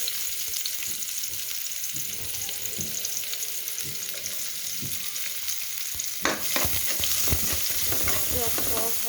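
Chopped onion dropped into hot oil left from frying potatoes for a mustard cauliflower curry, a steady close sizzle with scraping stirs that grows louder and busier partway through; no one speaks.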